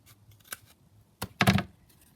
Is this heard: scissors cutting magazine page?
yes